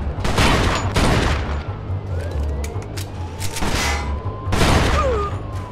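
Gunfire rattles through a Mafia II shootout, with bursts of rapid shots and sharp booms that come and go in clusters, mixed with game ambience and distant tonal sounds.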